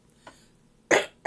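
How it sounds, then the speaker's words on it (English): Throat clearing from a man getting over pneumonia: a soft catch, then a loud, harsh burst and a second forceful one starting right after, close and with no talk. "Excuse me for having to clear my throat."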